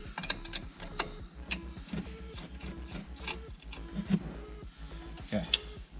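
A ratchet wrench works a shock absorber nut loose on a 1999–2007 Chevy Silverado, giving quick bursts of close metallic clicking with short pauses between strokes.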